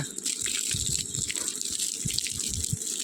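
Water splashes and gushes steadily from a vessel onto potted garden plants such as garlic, spinach, chickpeas and onions, a close continuous pour with small dripping spatters.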